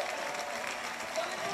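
Dense, steady applause from a large outdoor crowd at the start of a mountain trail race, a continuous wash of clapping heard at a distance without individual claps standing out.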